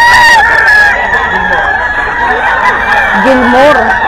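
A bullstag gamecock crows loudly and close by, its long harmonic call running through the whole stretch alongside other fowl clucking and calling nearby.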